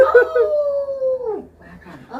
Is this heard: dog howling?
yes